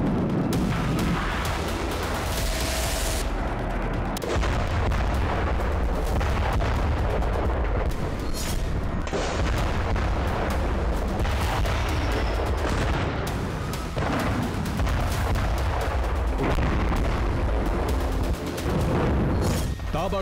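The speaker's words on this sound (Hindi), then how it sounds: "ताबड़तोड़ धमाके" Continuous loud booms and heavy artillery fire in Kyiv during a Russian attack, with rumbling explosions and crackling bursts, dense and chaotic throughout, with some voices mixed in.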